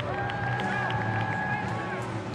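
A large, enthusiastic crowd at a Braves baseball game on Mother's Day against the Blue Jays makes a steady roar of murmur and cheering, with a broadcast voice talking over it.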